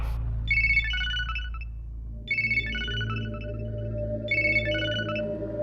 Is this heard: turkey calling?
no